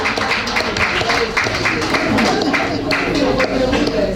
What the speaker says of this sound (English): Let's give a clap for the